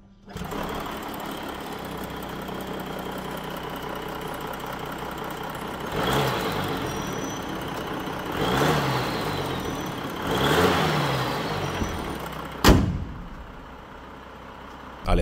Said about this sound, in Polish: Słychać, że jest to diesel, ale słychać też, że ma więcej niż 4 cylindry.